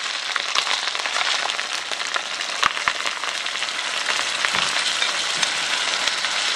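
Rice frying in a pan with ginger paste and cumin paste for fried onion pulao makes a close, dense, crackling sizzle that stays steady throughout, dotted with small pops and clicks.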